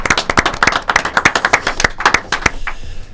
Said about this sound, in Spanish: Vamos a aplaudirlos.